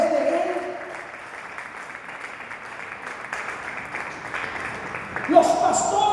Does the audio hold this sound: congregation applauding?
yes